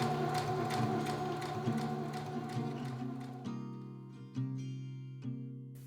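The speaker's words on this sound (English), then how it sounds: "Now all we have to do is stitch the casing down on the wrong side," A sewing machine stitching down a fabric casing runs steadily with a whirring, ratcheting mechanical rhythm, then slows to separate clicking stitches near the end; fairly quiet and close, no voices.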